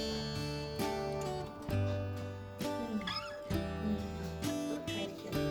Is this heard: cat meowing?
yes